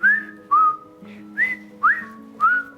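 A person whistles a series of six short, rising-and-falling notes in a quick irregular rhythm, mimicking bullets whizzing by, close and clear with no talk.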